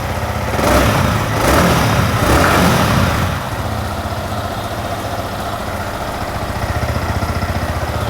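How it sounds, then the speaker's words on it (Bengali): A Yamaha R15M motorcycle engine fires up with a few loud revving bursts, then settles into a steady, close, even idle, with no talking. "আমি চেষ্টা করতেছি আপনাদেরকে ইঞ্জিন সাউন্ডটা শোনানোর। চলুন স্টার্টটা করা যাক।"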